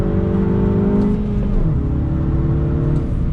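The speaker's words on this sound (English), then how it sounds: "Heel toe downshift." A 2021 Mini Cooper S convertible with a six-speed manual downshifts heel-toe on a twisty road, its engine droning loudly, then blipping to a higher rev before settling into a steady pull.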